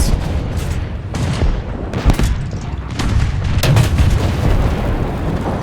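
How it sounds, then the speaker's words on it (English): A Semovente 105/25 assault gun's 105 mm cannon fires in War Thunder: loud, heavy booms over constant engine rumble and battlefield noise, with several sharp blasts standing out. "I'm just going to take a random shot because I think something's still behind there."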